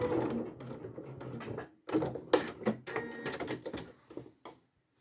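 Sewing machine stitching a padded, quilted zipped pouch, whirring in short bursts with a brief stop partway through, then resuming in uneven runs before falling quiet.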